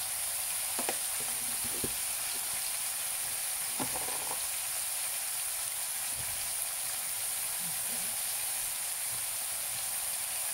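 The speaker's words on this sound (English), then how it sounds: "We let the tadka be at the base for some time, and then we will give it a toss." Tadka for chayote curry sizzles quietly in a pan, a faint steady hiss. Scattered soft crackles and pops break through it, with no talking.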